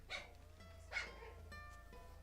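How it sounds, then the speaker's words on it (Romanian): A small bichon dog barks indoors, giving two or three short, faint yaps spaced about a second apart over a low, constant hum. "Am un cățel aici, un bișon care face gălăgie."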